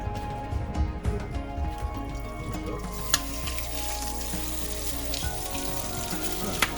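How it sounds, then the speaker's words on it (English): Leftover rice fries in a hot pan for fried rice with a steady, close sizzle, some stirring clatter and a sharp clink partway through, and the crackle goes on without break. "we can just make it into fried rice"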